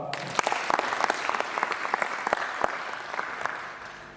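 An audience at a university induction gathering claps together in a brief, dense burst of applause that holds steady and then thins out near the end.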